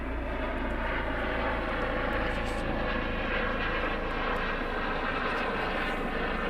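An Apache helicopter flies overhead near an airfield in the RAF Shawbury area, producing a steady, loud, continuous engine and rotor roar that holds without break throughout.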